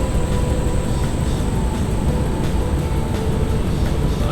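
Loud, steady drone of a Jetstream 32 turboprop engine in a flight simulator, recorded from the real airplane, running continuously, a constant roar with a faint high whine layered on top.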